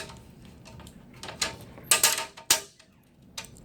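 A nut tightened on a greenhouse roof window assembly gives a few sharp, close metallic ratcheting clicks in quick bursts over a quiet background.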